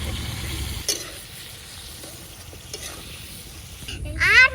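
Fish curry seasoned with salt and turmeric is stirred in a hot pan over a village cooking fire, with a soft continuous sizzle, scraping strokes of the spoon and a brighter clatter at the end.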